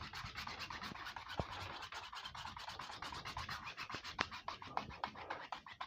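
A palette knife or brush scrapes oil paint across a canvas in quick repeated rasping strokes, soft and close, with no voices.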